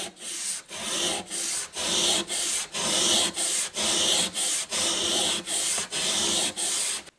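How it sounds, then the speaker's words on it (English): Sandpaper is worked over a few spots on a lathe topslide in regular strokes, about a dozen evenly spaced rasping passes with brief pauses between them, close and fairly loud, with no one talking. "these few spots I will give it a touch of sandpaper"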